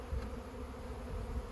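Bees buzz steadily in a dense, continuous drone while being installed in a hive, close and fairly soft, with no voices.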